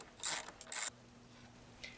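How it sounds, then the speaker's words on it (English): A freshly built fence gate swung on its hinges gives two short metallic squeaks in quick succession, close and fairly faint, then near quiet. "then I test out the swing of the gate to make sure it swings properly"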